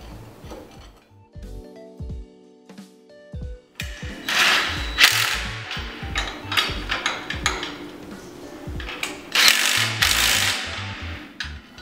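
A ratchet tightens U-bolts onto leaf spring plates during a Panhard rod kit install, giving a few sparse clicks and then a long run of loud, rapid ratcheting bursts close by.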